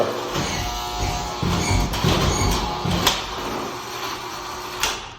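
An electric strike access-control door mechanism whirs and clunks as it slowly opens, with a few sharp mechanical clicks and a low motor hum, close by.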